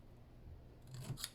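A pair of scissors makes a couple of quick, close snips while cutting material to build a box, faint and brief against a quiet room.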